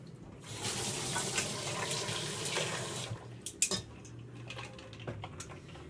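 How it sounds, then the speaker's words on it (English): A kitchen tap runs steadily into a bowl of ice for an ice bath, a continuous close rush of water that stops, followed by a few clinks and knocks of bowl and utensils. "Fill it with some water."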